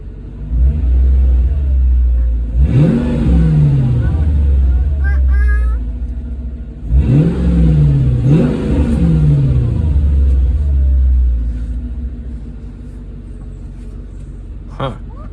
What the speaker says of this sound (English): It sounds like it's firing on all cylinders